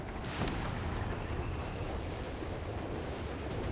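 Artillery shells pound a sector in Company of Heroes 3, a dense rumbling barrage of booms and blasts that runs steadily and loud throughout.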